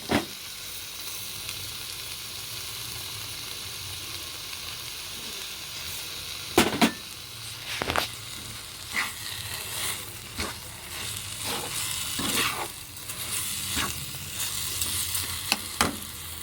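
Carrot halwa frying slowly in a pan gives a continuous sizzle, broken by repeated scraping stir strokes that grow more frequent toward the end, with no voices.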